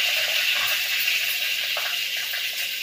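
Finely chopped curry leaves, four or five of them, hit hot oil with cumin for a valachi bhaji and give a steady, close hiss of sizzling with no talk over it.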